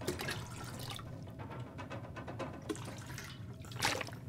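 Water gulped from a tank in the survival video game The Long Dark, a wet liquid sloshing and trickling that runs steadily for several seconds and rises in a brief splash near the end, with no talk.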